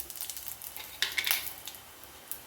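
Coriander seeds fry in a little oil in a kadai with a faint, crackly sizzle and a couple of brief metallic clinks from a utensil against the pan.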